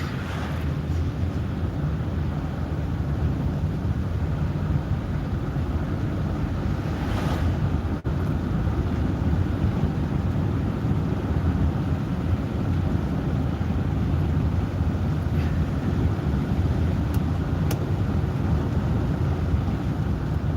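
A car driving on a road at night, heard from inside the cabin as a steady, loud broadband rumble of road and wind noise throughout, with no voices.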